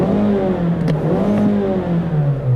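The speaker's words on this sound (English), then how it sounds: "Just love how it revs." A 2016 Mazda 3 Sport GT engine revs close up toward 6,500 RPM, a loud rising and falling whine with a mechanical clatter, alone without talk.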